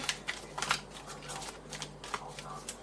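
Tarot cards being shuffled by hand, soft quick riffling bursts repeating in short clusters, close but quiet with no talk.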